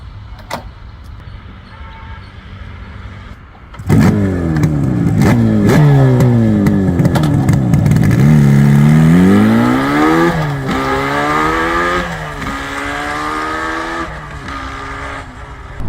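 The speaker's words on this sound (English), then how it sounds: "if I'm doing a cold start, I have to use a choke, and then I have to turn on the fuel, then I have to kick start" A Yamaha RD 350 two-stroke motorcycle, on a choked cold start, sputters to life after a few clattering kicks, then revs loudly up and down in rising and falling whines before settling into a steady idle.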